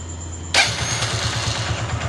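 A motorcycle engine starting after carburetor tuning: sudden loud catch, then a steady close idle with a rhythmic low-pitched putter.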